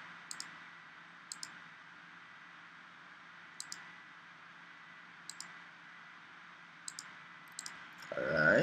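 A computer mouse clicking while drawing lines in AutoCAD, crisp double clicks at irregular intervals over a low steady hum, fairly close.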